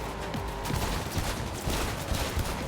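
Gunfire aimed at an enemy in Cyberpunk 2077, rapid bursts of shots rattling over a busy, noisy background at moderate volume.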